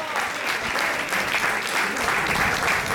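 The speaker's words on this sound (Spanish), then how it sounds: "¡Fuerte el aplauso para Darío!" Loud, dense applause from a live music crowd at a band performance, a continuous close wash of many clapping hands lasting a few seconds with no pauses.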